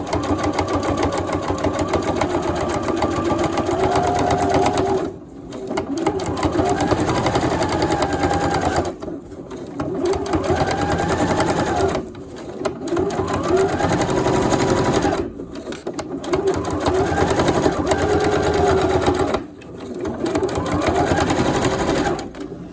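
A sewing machine runs a top stitch across a pencil case, its rapid needle chatter going in several long bursts separated by brief pauses.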